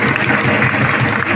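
Dense audience clapping at a village kirtan during a week-long Harinam gathering in Shillegaon, loud and close, filling the whole short burst.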